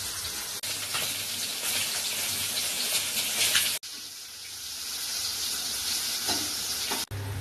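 Rohu fish pieces frying in a pan of oil, a loud, dense sizzle running steadily and close, broken by a couple of brief sharp cuts.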